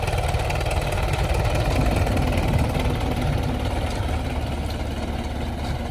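Tractor engine running steadily under load while disking sandy ground, a loud continuous low rumble close by with a slight easing toward the end.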